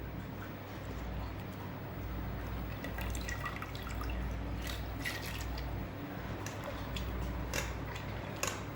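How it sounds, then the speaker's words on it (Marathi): Soaking water being changed on wheat grains left to steep at home for kurdai, with steady dripping and trickling splashes over a continuous wet background, close by and without talk. "आपल्याला आता हे गव्हातले पाणी बदलायचे."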